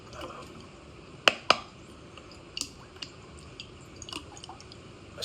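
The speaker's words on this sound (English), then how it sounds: "Especially when it hits the lid, it gets that kind of sharp sound" Raindrops dripping onto a lid during a thunderstorm, with a few sharp isolated taps and smaller scattered drips over a soft, steady background hiss.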